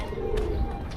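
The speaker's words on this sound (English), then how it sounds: "Look at these pigeons." Pigeons cooing at close range on a city street in Hamburg, Germany: soft low coos over steady urban background hum, lasting about a second.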